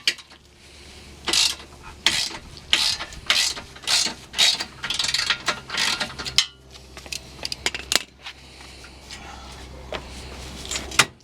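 A ratchet wrench loosens bolts on a 2005 Mini Cooper S cooling fan, heard as close bursts of rapid clicking separated by short pauses, followed by a few quieter scrapes and knocks of metal.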